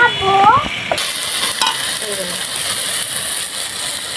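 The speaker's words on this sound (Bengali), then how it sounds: "বেগুন আর আলু একসাথে কষে দিব ভালো করে" Fried potatoes and eggplant being sautéed together in a pan give a loud, steady sizzle, with scraping spatula strokes over it and a brief burst of speech near the start.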